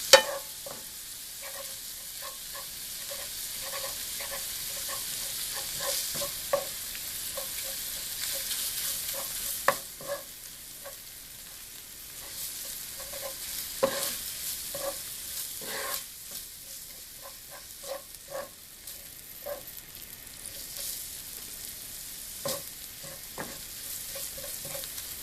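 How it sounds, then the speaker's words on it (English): Ground meat for mapo tofu frying in a hot pan, a steady soft sizzle with frequent clicking scrapes and taps of a utensil as it is stirred and broken up, close and continuous with no voices. "you just continue to stir it so that it'll break up better"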